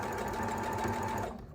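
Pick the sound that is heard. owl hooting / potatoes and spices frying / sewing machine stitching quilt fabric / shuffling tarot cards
sewing machine stitching quilt fabric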